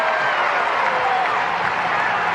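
Baseball crowd at a Minnesota Twins vs Cincinnati Reds game cheering and applauding a ball-four walk, a steady dense roar of voices and clapping holding level throughout, with talk mixed in.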